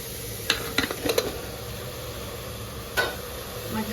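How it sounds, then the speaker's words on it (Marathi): Mutton goes into roasted masala in a pan for mutton rassa, giving a soft, continuous sizzle broken by a cluster of spoon-against-pan knocks and scrapes, then another clank a little later. "आपला मसाला मस्त भाजून झालेला आहे, त्यात आपण टाकणार आहे आता मटण"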